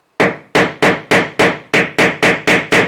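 Hammer taps a nail tip into an old plaster sheet wall: nine sharp, even strikes about a third of a second apart, each with a short ringing decay, close and loud with no talking.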